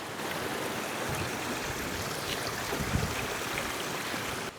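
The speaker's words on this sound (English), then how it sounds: "there's just water coming from the moorland all the way up there" A small brook fed by moorland runoff flows steadily in a gorge, a close, constant rushing and gurgling wash of water with no voices over it.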